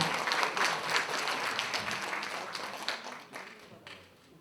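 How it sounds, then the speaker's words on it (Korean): Crowd clapping at a volunteer firefighters' day ceremony in Cheonan rolls on as one broad, steady wash, then gradually thins and fades over several seconds. "여러분들 다시 한번 큰 박수로 부탁드립니다"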